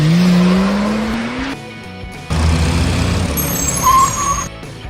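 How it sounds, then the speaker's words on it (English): A sports car revs with a rising engine tone, drops away, then roars back with a squeal of tires, loud and close. "Sports car."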